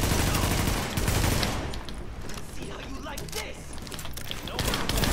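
Sustained automatic gunfire in The Division keeps rattling at close range for about five seconds, with dense rapid shots that slightly ease in the middle, and a voice comes through faintly underneath.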